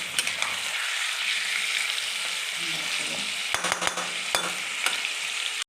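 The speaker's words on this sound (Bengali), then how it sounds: "মাংসটা একটু তেলের মধ্যে ভেজে নিলাম ভালো করে নাড়াচাড়া দিয়ে।" Chicken pieces stirred and fried in hot oil, giving a continuous loud sizzle with a few sharp scrapes of a spatula against the pan near the end.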